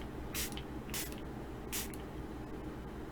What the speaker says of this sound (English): Bring on fruit enzyme spray.